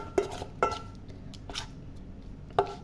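A spoon clinks and scrapes against a bowl while stirring a spice mixture for pepes ikan patin, a Palembang fish dish, giving a few sharp taps spaced apart with soft mixing sounds between.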